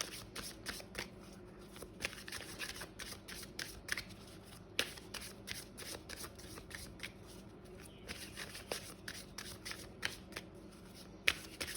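Green Witch Oracle tarot cards shuffled by hand, with a steady stream of soft papery slaps and crisp clicks repeating close to the mic for the whole stretch; no voice.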